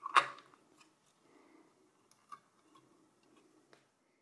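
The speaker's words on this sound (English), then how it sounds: "Then we can close the socket." The CPU socket lever on an HP ProDesk 490 G2 desktop snaps shut with one sharp, close click, followed by a few faint, scattered ticks in an otherwise quiet room.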